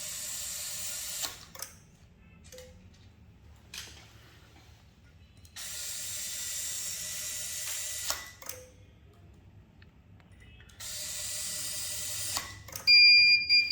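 Screw counter for an ASA screwdriver sounds a fail alarm, several bursts of high electronic beeping separated by quiet gaps, with small mechanical clicks between them and a louder final burst.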